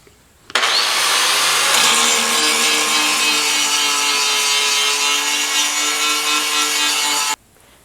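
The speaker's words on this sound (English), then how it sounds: "she's going to hit the top of the plate with a flap disc so it looks" A flap disc grinds across the top of a steel plate for a welding vise, a steady loud abrasive whine that starts abruptly, holds evenly for about seven seconds, then cuts off.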